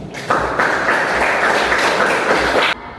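A classroom of pupils breaks into applause, a dense, steady wash of many hands clapping for about two and a half seconds before stopping abruptly.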